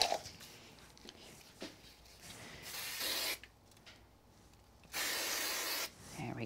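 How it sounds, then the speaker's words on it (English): Spray glue hisses from an aerosol can onto card in two steady, close bursts of about a second each, with quiet handling and rustling before and between them. "I'm going to use some spray glue here."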